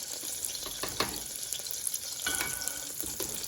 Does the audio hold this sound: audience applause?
no